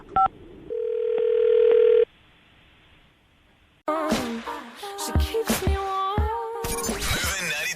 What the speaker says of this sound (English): I'm going to call her right now, see if we can get her on the phone.